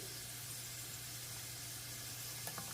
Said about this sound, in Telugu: క్యారెట్ వేసుకొని హై ఫ్లేమ్ పైన ఒక టూ మినిట్స్ చక్కగా ఫ్రై చేసుకోవాలి